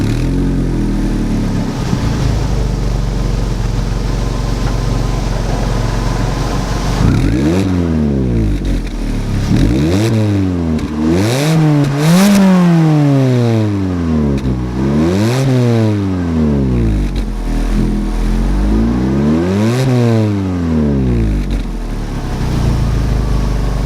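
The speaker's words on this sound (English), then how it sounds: "This exhaust is a custom cutback. It's time to go for a drive. So let's hear what she sounds like." A 2014 Suzuki Swift Sport with a custom cutback exhaust idles, then pulls away through a series of loud, close revs that climb and fall through the gears again and again.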